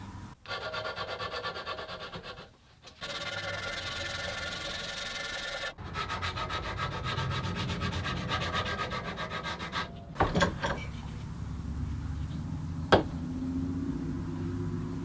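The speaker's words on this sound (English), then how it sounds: "after a whole lot of sanding" Close, steady sanding rasps along the wooden handle of a Stanley No. 4 hand plane during restoration. Long strokes come in bursts with short pauses, then give way to lighter scraping and a few handling knocks.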